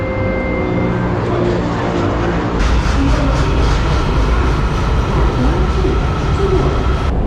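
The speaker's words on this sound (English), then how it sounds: "comes the next train." A metro train on Kuala Lumpur's MRT Putrajaya Line rumbles in with a steady mechanical roar that grows louder partway through, with faint voices in the background.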